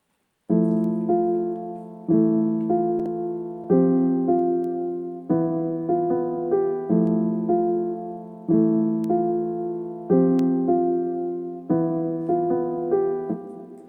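Piano chords from a lofi beat play alone in a slow repeating pattern, about eight soft sustained strikes that each fade before the next, warm and mellow with no talking.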